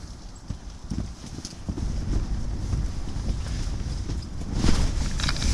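Strong wind buffets an ice fishing tent, a continuous loud roar with rustling gusts that swell toward the end.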